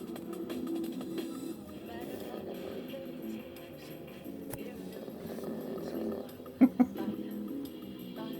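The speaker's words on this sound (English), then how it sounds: "Bobby Hill's snoring." A dog snores while asleep late at night, low rasping breaths rising and falling steadily and close, with two sharp brief knocks near the end.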